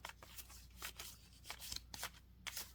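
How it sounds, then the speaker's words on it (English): A round oracle card deck is shuffled close up, with quick, soft papery riffles and slides repeating in uneven bursts, quiet and alone. "this one shuffles really well, like this it does"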